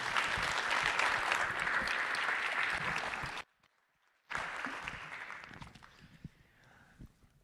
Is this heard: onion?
no